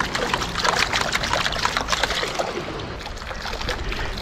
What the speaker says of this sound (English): Tip out a good bit of water.